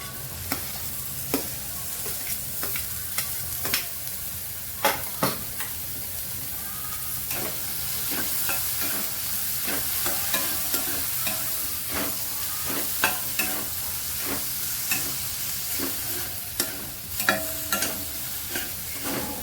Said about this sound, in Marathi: यामध्ये आता बारीक चिरून घेतलेली शिमला मिरची घालून घेणार